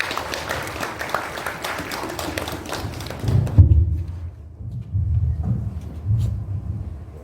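An audience at a craft biennale festival event in Cheongju applauding a performer, a few seconds of mixed clapping that stops abruptly, followed by low thumps and rumbling handling noise.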